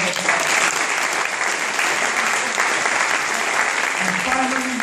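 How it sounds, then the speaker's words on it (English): Dense, loud audience applause fills the room at a film premiere community panel discussion, sustained evenly throughout, with a voice briefly emerging near the end. "let's give him a round of applause"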